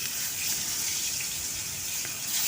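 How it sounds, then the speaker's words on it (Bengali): Eggplant slices frying in soybean oil in a pan, a steady, even sizzle and hiss heard alone at moderate level. "সয়াবিন তেল দেওয়ার পরে এক এক করে বেগুনগুলো দিয়ে দিব"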